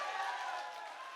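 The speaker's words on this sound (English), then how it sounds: "Give him a round of applause" Audience applause at a high school youth gathering: a brief, soft wash of clapping heard from some distance, fading slightly over about a second.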